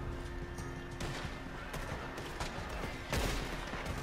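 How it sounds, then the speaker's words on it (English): Gunfire in the western game Red Dead Online: a quick burst of sharp shots, then scattered single cracks, with a heavier close blast near the end. "That was a beautiful headshot."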